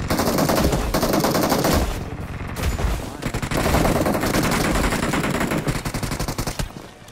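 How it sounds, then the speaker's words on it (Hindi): Rapid bursts of snow gun fire in the BGMI battle royale game, loud, continuous automatic shots with brief pauses between volleys, with no talking. "यहाँ पे मुझे मिलती है स्नो गन, तो मैं सीधा बंदों पर रश कर देता हूँ।"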